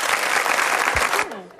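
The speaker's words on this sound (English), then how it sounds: "I bought my own applause for you tonight." Recorded applause and cheering played on a television dance show, a steady dense clapping wash that cuts off abruptly, followed by a brief voice.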